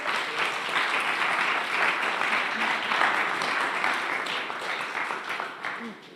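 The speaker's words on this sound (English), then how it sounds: "please give again a huge round of applause to all the teams who pitched it today" A conference audience at DeSci Berlin 2025 applauds the teams that pitched, sustained dense clapping for about six seconds with a slight fade at the end.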